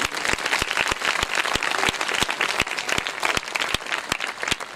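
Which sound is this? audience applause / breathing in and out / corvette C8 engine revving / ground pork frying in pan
audience applause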